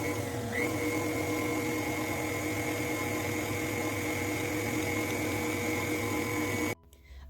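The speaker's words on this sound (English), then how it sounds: "On the mixer, you're going to be mixing for 2 minutes" A stand mixer kneads cinnamon roll dough with a steady, droning motor hum that holds evenly for several seconds before stopping abruptly.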